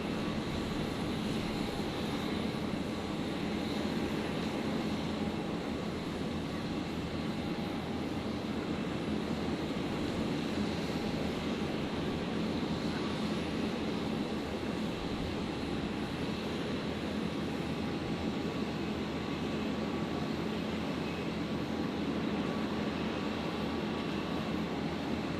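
An airplane rumbles on the runway at Brisbane airport at night, a steady broad engine roar that stays even throughout, moderately loud and some distance away.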